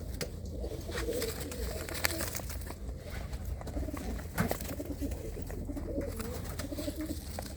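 Soft, low coos of red Chinese pigeons repeat through steady background noise, close by and fairly quiet, with faint chirps scattered in between.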